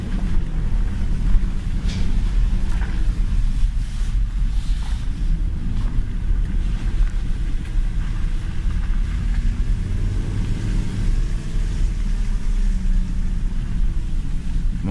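A Porsche Cayenne 955 V8S driving after a battery replacement gives a steady low engine and road rumble with wind and cabin noise, continuous and unchanging throughout, no talk.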